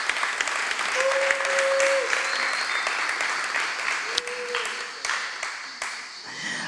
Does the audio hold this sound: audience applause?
yes